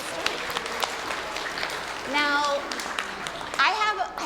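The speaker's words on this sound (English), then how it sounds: "Let's clap for the story." An audience claps after a children's story is read aloud: a short burst of scattered clapping, then a voice begins speaking.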